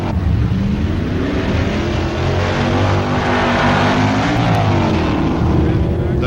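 A Dodge pickup drag racing truck with a 425 hp V8 roars loudly and close, its engine note rising and falling in a rough, throaty, continuous blast.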